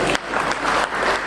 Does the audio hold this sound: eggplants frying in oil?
no